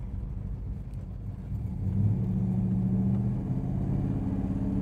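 A 1969 Dodge Coronet engine revs in low gear, a deep steady rumble that swells slightly as it pulls, heard from inside the moving car with no talking.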